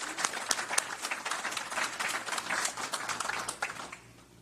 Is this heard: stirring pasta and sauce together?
no